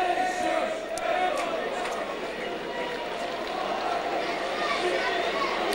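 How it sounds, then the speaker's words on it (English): A football stadium crowd at a Burnley v Huddersfield Town match applauds a player, a broad steady wash of clapping and crowd noise beneath a commentator's voice. "He's receiving great applause, Ian Measham"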